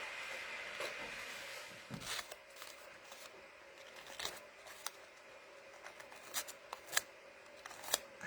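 Paper edges are distressed with a dedicated tool for vintage-themed journaling. The faint, dry scratching and scraping strokes come in irregular bursts, close by and quiet, with no talking.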